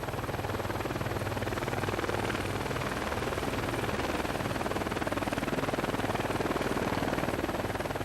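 Squirrel or Bell helicopter in flight, a steady, loud rotor and turbine drone with fast blade chop holding evenly for the whole stretch, no voices over it.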